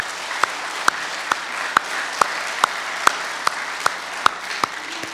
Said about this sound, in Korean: 우리 한번 영광의 박수를 한번 올려드리겠습니다